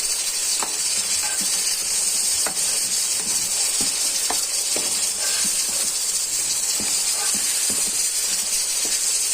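Garlic fries in a hot pan, a steady bright hiss with scattered sharp crackles and pops throughout, fairly loud and close.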